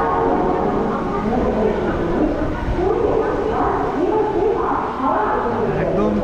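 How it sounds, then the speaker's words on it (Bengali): A passenger train pulling out of Howrah station in the morning gives a continuous heavy rumble and rattle of carriages, close and loud, while someone talks over it. "এই আমাদের হাওড়া থেকে ট্রেন ছেড়ে দিল।"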